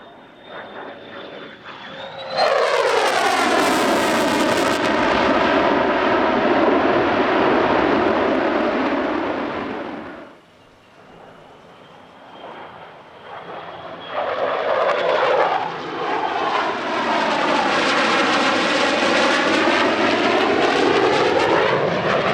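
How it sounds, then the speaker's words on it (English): An F-35 fighter jet roars loudly through a tactical pitch manoeuvre at an airshow, its engine noise swelling, briefly easing, then surging again with shifting, sweeping tones as it passes close overhead. "Last manoeuvre, a tactical pitch, often known as the Dojo Drift, in honour of the first US Air Force F-35 display pilot."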